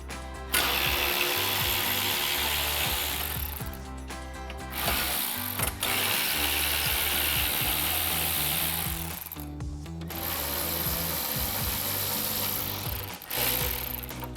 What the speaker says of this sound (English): Now that we have all of our screws loose and our hardware out